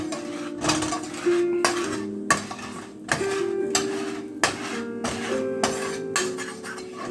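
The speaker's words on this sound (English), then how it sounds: "Scrape this pan up." A metal utensil scrapes and clinks against a frying pan coated in bacon, sausage and butter grease, in repeated scrapes with sharp metallic knocks at a steady rhythm close by.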